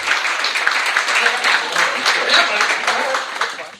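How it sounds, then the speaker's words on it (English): Audience at an awards event giving a round of applause, with a thick, continuous wash of many hands clapping at close range throughout. "Y'all give him a round of applause."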